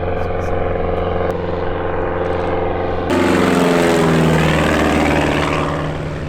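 Propeller bush planes at a bush pilot gathering on the Knik Glacier, a loud steady droning engine close by that swells into a louder, rougher roar partway through, as if one passes or throttles up.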